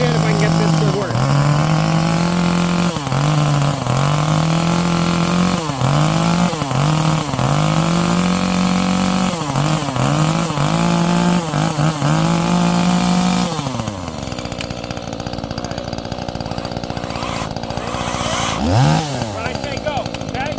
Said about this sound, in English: Husqvarna 525, which is a 27cc saw, versus the DeWalt 60-volt top handle